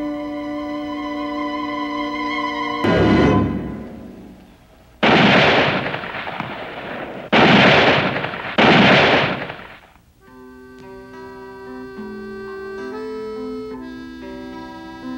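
Hunting rifle shots from a .30-06 fired in open mountain country at a distant mountain goat, with several loud sharp blasts whose long rolling echoes sit between sustained musical tones.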